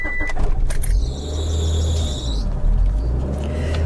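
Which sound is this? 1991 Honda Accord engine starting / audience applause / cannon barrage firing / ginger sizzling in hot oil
1991 Honda Accord engine starting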